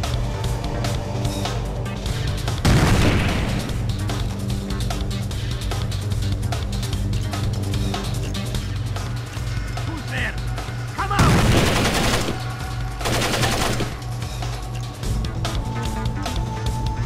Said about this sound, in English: Shooting at me, goddammit!